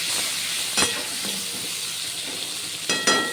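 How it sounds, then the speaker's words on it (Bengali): Spiny gourd (kakrol) fries with salt and turmeric in hot oil, a steady close sizzle with a few sharp scraping stirs at the start and end. "এবার কাঁকরোল নুন হলুদ দিয়ে ভালো করে ভাজবো"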